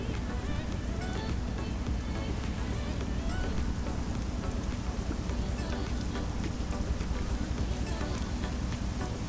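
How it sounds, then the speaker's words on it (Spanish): Steady rain drumming on a truck in a truck-driving simulator game, with a Kenworth T680 pulling a double trailer across an extreme Mexico map; a dense, continuous patter fills the whole stretch, with a low engine rumble beneath. "Sí, ya empezó a llover"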